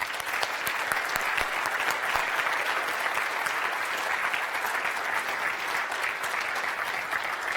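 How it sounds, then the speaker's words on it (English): A large conference audience at NodeConf EU breaks into sustained, dense applause, many hands clapping steadily and evenly for several seconds without letting up. "I also would like everyone to give a generous round of applause to all of the folks at Nearform"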